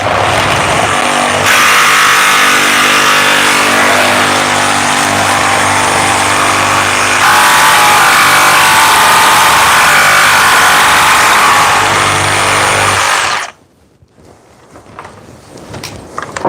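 DeWalt 60 Volt reciprocating saw cutting steel strut, a loud, steady buzzing rasp that runs continuously for about thirteen seconds before cutting off abruptly into quiet room noise.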